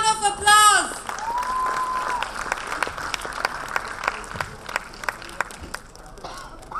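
An audience at a fashion show applauds the team in a dense, steady round of clapping that fades slightly toward the end, entering after a short burst of music and voice at the start.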